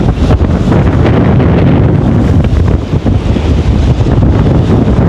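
Strong, roaring storm wind on the coast at Point Pedro buffets the microphone without letup, a dense rushing noise with faint watery surf beneath it.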